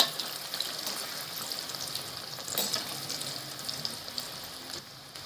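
Crispy masala potatoes frying and being stirred in a pan, a steady soft sizzle with faint scraping movement throughout, no voices.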